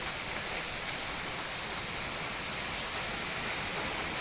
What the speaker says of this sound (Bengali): দেখো বৃষ্টি হচ্ছে, বুঝতেই পারছো।